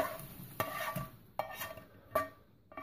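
Minced meat fries and is stirred in a pan for a macaroni casserole, giving a quiet sizzle broken by a few sharp scrapes and clinks of the utensil against the pan.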